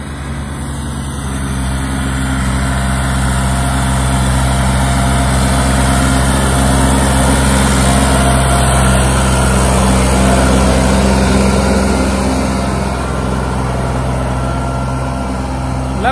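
An old tractor fitted with a turbo runs steadily nearby, a loud, continuous diesel drone with a constant low hum and high whine that holds unchanged for over fifteen seconds with no talk.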